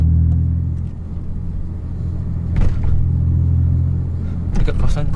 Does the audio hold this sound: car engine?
yes